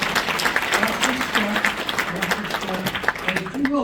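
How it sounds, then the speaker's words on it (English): Audience at a Kennesaw Business Association gathering applauds as a volunteer comes up on stage, a steady dense wash of clapping lasting several seconds with faint voices mixed in. "all this applause is for"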